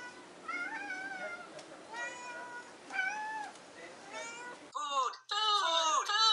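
A cat meows repeatedly up close, several distinct calls in a row, the last ones sharper and more strained, with a brief electronic cut near the end.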